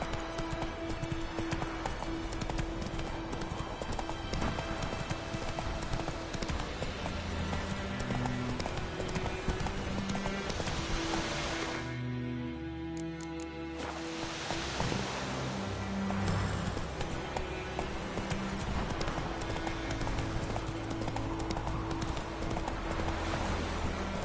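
In The Witcher 3, the horse Roach trots along with a steady, rhythmic clip-clop of hooves throughout, near and clear, briefly dipping midway, with a faint whinny and no talking.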